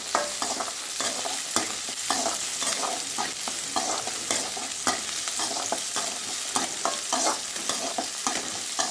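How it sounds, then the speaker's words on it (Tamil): Onions and tomatoes sautéing in a pan for a jackfruit dish, with a steady close sizzle of frying and repeated scraping stir strokes throughout, no voices. "3 தக்காளி சேர்த்து நம்ம நல்லா வதக்கிடணும்."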